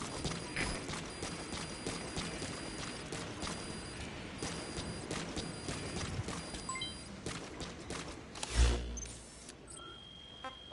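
Steady hoof clip-clop of a horse in Metal Gear Solid V: The Phantom Pain, a near trotting rhythm over game ambience and mechanical clanks, with one heavier thump near the end.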